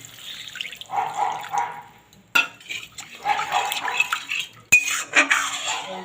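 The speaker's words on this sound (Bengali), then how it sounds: "এটা দিয়ে দিচ্ছি জল" Water pours into mustard masala in a pan with a splashing, bubbling rush, set among clattering knocks of a utensil against the pan, including two sharp loud clanks.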